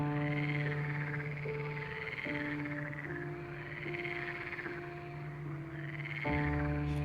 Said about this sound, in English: add their voices to the symphony of the pond. Their croaking is a primal sound